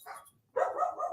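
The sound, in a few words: dog barking in the house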